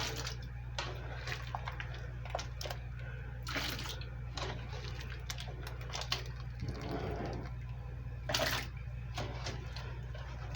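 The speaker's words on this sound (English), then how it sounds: "we are going to plunge these in ice cold water" Blanched potatoes tipped into a bowl of ice cold water in a home kitchen, faint splashing and sloshing over a steady low hum, with a few louder clatters.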